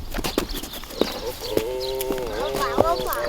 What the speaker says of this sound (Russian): он проверил, в каком состоянии находятся лошади.